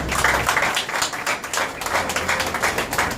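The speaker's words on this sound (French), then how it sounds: "je vous demande un applaudissement s'il vous plaît" A crowd claps steadily throughout, a dense, continuous patter of many hands without a break.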